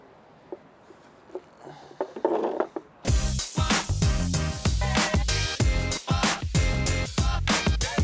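Cleaner is sprayed over a car engine bay in a quick series of hissing bursts. Quiet clicks and handling sounds come first, then louder rapid spray pulses repeat close to the microphone.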